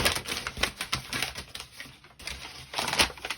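Packaging paper being crumpled and scrunched by hand, close and crisp crackling bursts in irregular clusters with a brief lull near the middle.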